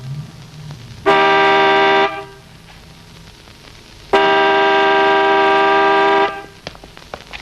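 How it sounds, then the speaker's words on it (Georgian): A car horn gives two loud sustained blasts, the first about a second long and the second about two seconds, with quiet street background between them and no talk. "რა საყვირებ მანქანას?"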